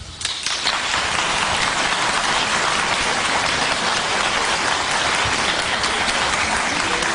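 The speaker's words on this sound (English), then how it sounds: "That was all black people clapping." A loud studio audience on a daytime talk show claps in a dense, continuous wash that starts abruptly and holds steady for several seconds, with no voices over it.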